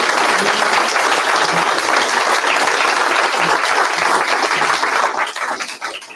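A crowd at a public event greets the start of the first part with loud, dense applause that holds steady, then thins and fades out near the end.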